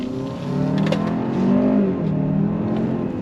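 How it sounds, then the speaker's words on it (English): A 2024 Hyundai Santa Fe Limited with an 8-speed DCT accelerating hard in sport mode, its engine note rising steadily and swelling in pitch, heard from inside the cabin with steady road noise underneath. "We're going to go on throttle here."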